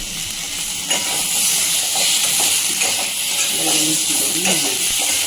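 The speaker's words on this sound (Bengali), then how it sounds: "আচ্ছা হলুদ দিয়ে একটু কষে নেবো" Fish curry masala with turmeric frying in a pan, a dense continuous sizzle with intermittent stirring scrapes, close and loud, with some voices in the background.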